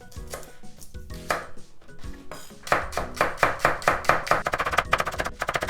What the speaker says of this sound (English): So the scallion or the green onion, I'm going to cut into small thin pieces.